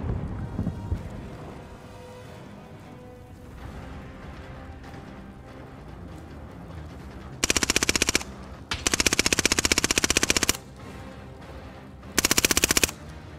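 Gunfire in Call of Duty Warzone on the Caldera map, with loud bursts of automatic fire in three separate volleys, the longest lasting about two seconds, over a quieter background of wind and game ambience.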